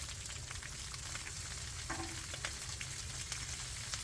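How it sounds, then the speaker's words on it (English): Sausage links sizzling in a frying pan, a steady crackling hiss with occasional small pops and faint clinks, heard up close with no one talking. "this grease will spit up and splatter"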